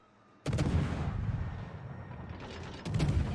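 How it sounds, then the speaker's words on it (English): Warship guns in the naval video game World of Warships, a French Marceau destroyer firing two loud booming salvos, each a sudden heavy blast with a rolling rumble that lingers before the next volley. "The reload on the ship is so fast though that I'm not sure I want to actually click every time I fire"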